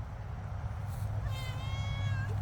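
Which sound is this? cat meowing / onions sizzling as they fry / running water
cat meowing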